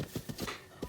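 Horse hooves clopping in the video game Breath of the Wild, a brief quick run of five or six soft, close hoofbeats in an uneven rhythm.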